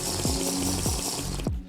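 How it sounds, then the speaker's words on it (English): Water pours steadily in Minecraft with a bubbling, gurgling flow, punctuated by three low descending glugs, then cuts off abruptly at the end. "Alright, let's refill the water."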